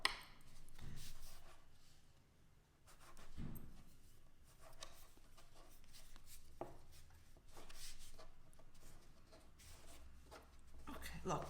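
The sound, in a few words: cutting pasta dough with a spatula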